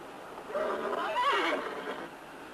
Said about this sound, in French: Pour les chevaux, le corral est là, derrière.